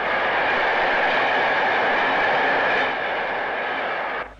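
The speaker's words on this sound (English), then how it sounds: "a brush type 4 on 1V12, the 4:30 p.m. Birkenhead to Paddington" A Brush Type 4 diesel locomotive hauls a passenger train past, a loud close rumble and rolling roar that holds steady, eases slightly near the end and then cuts off.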